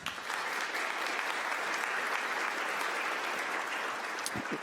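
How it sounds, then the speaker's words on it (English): A crowd at a city merit awards ceremony applauds steadily for several seconds, a dense patter of clapping from many hands that fades slightly at the end. "Let's give her a round of applause."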